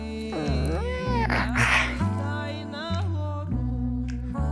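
A cat meows repeatedly in drawn-out, wavering cries, loud and close, over a steady low musical backing.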